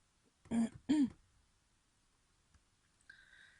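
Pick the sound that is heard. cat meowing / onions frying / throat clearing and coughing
throat clearing and coughing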